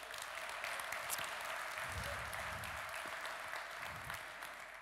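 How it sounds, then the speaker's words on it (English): Conference keynote audience applauding, a dense sustained patter of many hands clapping at once, steady and fairly loud throughout before easing slightly at the end. "So let's give them a round of applause."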